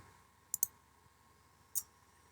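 Three sharp mouse clicks, a quick double click followed by a single click a moment later, close and crisp over a quiet background hum.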